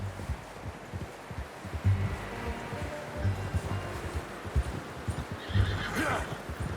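A horse in the video game Red Dead Redemption 2 gives a loud whinny over steady clip-clop of hooves and rustling movement, the hoofbeats continuing throughout.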